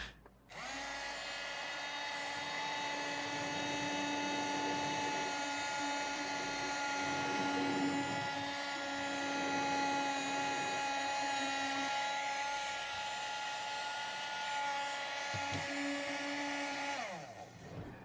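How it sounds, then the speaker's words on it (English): A small Hoover desk vacuum cleaner runs with a steady, high whirring drone for about seventeen seconds, then cuts off near the end. "it's a vacuum cleaner. It's a Hoover. It sucks up stuff from the desk."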